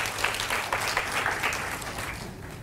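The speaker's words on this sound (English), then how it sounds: "please join me and give them a round of applause" An indoor audience at a tech bootcamp claps together in a dense, even burst that holds steady and fades slightly toward the end, with no one speaking over it.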